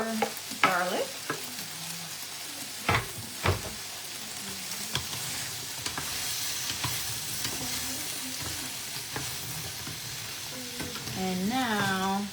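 Garlic is stirred into sizzling zucchini, bell peppers and onions in a skillet, with a steady close sizzle, a few sharp scrapes and clanks from the spoon, and a voice talking intermittently over it.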